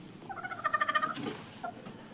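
A native country hen clucking in a rhythmic run of quick throaty notes, close and fairly loud, then trailing off into a couple of softer calls.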